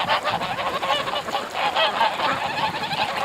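Ducks calling outdoors on a bitterly cold day of about -4°C, a dense, continuous chorus of loud honking and quacking from many birds close by, with no speech over it.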